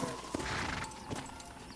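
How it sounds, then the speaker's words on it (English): Horse hooves clip-clop in a steady walking rhythm within a Western video game set in a frontier town, moderately close and faint beneath background game ambience. "I must hitch my horse."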